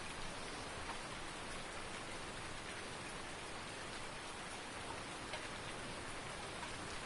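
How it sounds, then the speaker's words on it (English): Steady rain falling in the farming video game Farming Simulator 19, a dense even hiss of raindrops that continues unbroken and fairly quiet, with no voices. "we can mow in the rain"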